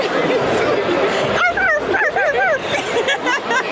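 A person mimics a Yorkie's high, yappy barks in a rapid string of short yips, with other voices chattering and laughing underneath.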